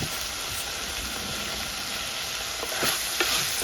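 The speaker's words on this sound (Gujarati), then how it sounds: "હવે છે ને ફરીથી એને હલાવી લેવાનું શાકને." A vegetable curry of green cowpeas, potatoes and chili frying in oil is stirred, giving a close, continuous sizzle with scraping and clinking from the spoon near the end.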